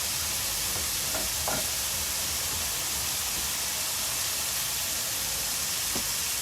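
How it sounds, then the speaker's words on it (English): Bacon sizzles steadily in a frying pan in an RV kitchen, a dense crackling hiss with a few soft clinks of a utensil. "I haven't done bacon in a pan in so long"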